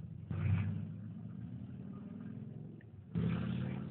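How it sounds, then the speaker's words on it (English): A motorcycle passes outside, its mid-pitched engine rumbling steadily at moderate distance for a few seconds and swelling slightly louder toward the end. "Hear the motorcycle?"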